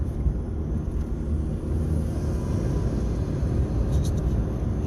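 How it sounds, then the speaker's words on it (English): Steady low engine rumble from inside a moving turbocharged hot hatch in fourth gear, a dense continuous drone with faint higher whine of the turbo spooling, no talking. "Just hear that turbo sucking away."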